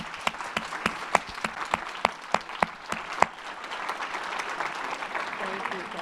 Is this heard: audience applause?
yes